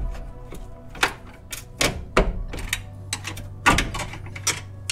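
A flathead screwdriver prying a ball joint out of the control arm on an MK7 Golf SportWagen, giving a run of sharp metallic clacks and knocks at uneven intervals, close and fairly loud with no talking.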